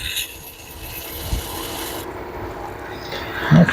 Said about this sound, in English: I got 100 sandpaper here. And we're just going to kind of wet sand it a little bit.